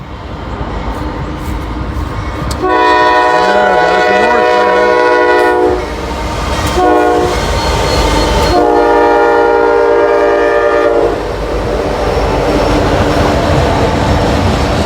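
A freight train rolls past up close, heading downhill toward the Ohio River at Ludlow: a loud, sustained horn blast sounds twice over rumbling wheels and rail clatter that continue after the horn stops.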